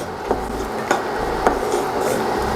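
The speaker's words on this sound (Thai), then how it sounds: "อันนี้ผมก็จะค่อยๆ คั่วไปเรื่อย ๆ ให้มันหอม" Slices of galangal and lemongrass dry-roasting in a pan in a condo kitchen, with a low steady sizzle broken by a few sharp scraping clicks of a utensil against the pan, close and moderately loud.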